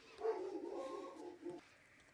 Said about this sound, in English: you might have just heard my dogs kick off. We had a delivery driver.